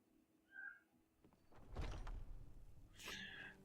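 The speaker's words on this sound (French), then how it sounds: "Vous entendez mon chat miauler derrière." A faint cat meows twice, once at the start and once near the end. A dull thump or door sound falls in between, and the space is otherwise quiet.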